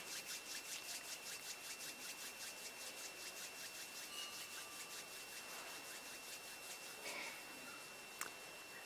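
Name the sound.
rubbing palms of hands together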